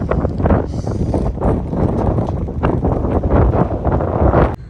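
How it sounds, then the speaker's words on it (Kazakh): Strong wind buffets the microphone in heavy, continuous rumbling gusts, loud and close, with no talking. "Жел болып тұр."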